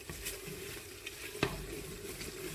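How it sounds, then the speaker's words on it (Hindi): Masala roasting in a pan while preparing green moong dal, a soft steady sizzle with light stirring scrapes and one brief clack, close and fairly quiet with no talk. "यहाँ पर हमारा मसाला अच्छी तरह भुन गया है।"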